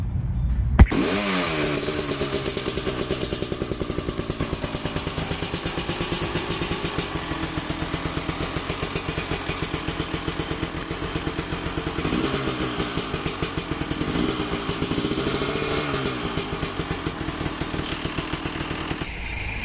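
A new Husqvarna TE 300 Pro motorcycle starts with a sharp catch and then runs continuously, its two-stroke engine buzzing and popping up close with a few brief revs rising and falling over a steady idle.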